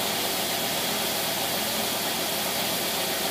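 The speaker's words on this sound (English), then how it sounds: "Idle just like any other carburetor." A Predator small engine idles on its carburetor, a steady loud rumbling drone with a dense hissy wash, constant and unbroken throughout with no talking.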